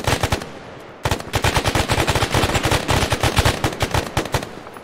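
Automatic gunfire from the Arma 3 military shooter game rattles loud and close in rapid sustained bursts, a short volley, a brief gap, then a long unbroken stream of shots.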